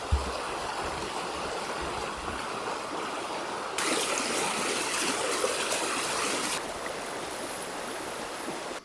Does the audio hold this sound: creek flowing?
yes